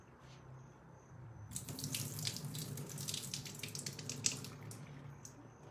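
Filtered water running from a kitchen sink tap as something is rinsed, a steady close hiss of flow starting after a quiet moment and continuing to the end.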